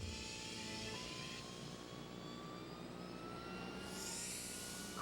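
A Southwest Airlines jet airliner roars steadily throughout in a commercial bound for Chicago Midway, a continuous loud engine whine with a slowly rising pitch and no talking.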